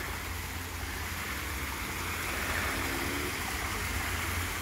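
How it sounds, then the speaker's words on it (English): A waterfall in the tropical section of a garden gives a steady, even rush of falling water, moderately distant and unbroken, with no voices over it. "We are approaching the waterfall"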